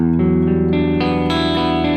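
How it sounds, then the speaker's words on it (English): Electric guitar with light distortion sounds sustained, ringing chords, with new notes added on top in several steps, loud and alone without any talk. "I might go distorted a little bit like this and go into the middle position"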